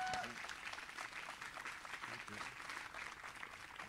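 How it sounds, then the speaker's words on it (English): Audience applause for a musician at an early morning yoga practice event, dense continuous clapping from a crowd, a brief voice at the very start, then steady hands throughout at moderate volume. "Give him a big applause."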